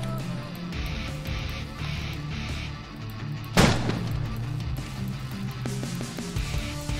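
Gunfire in a first-person shooter game, with one sharp, loud broadband shot standing out partway through over a steady backdrop of game music and ambience.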